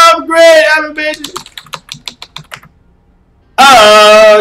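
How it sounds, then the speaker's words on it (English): A password is typed on a computer keyboard in a quick run of about a dozen sharp, close key clicks that slow toward the end, with a voice talking just before and after. "typing in my password"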